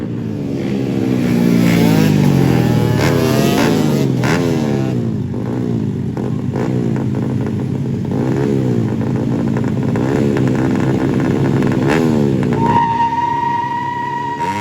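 A BMW engine revs hard at a drag race in Aceh, loud and close, its pitch sweeping up and down in repeated bursts for the whole stretch, with other race engines blending in and a steady high whine near the end.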